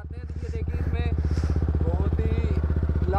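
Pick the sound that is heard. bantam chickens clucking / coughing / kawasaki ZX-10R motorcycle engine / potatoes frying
kawasaki ZX-10R motorcycle engine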